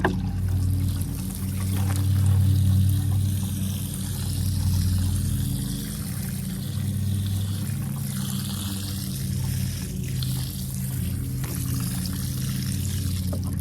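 Garden bed freshly planted with lettuce seeds being watered, a steady close pour and trickle running without a break under a low continuous hum.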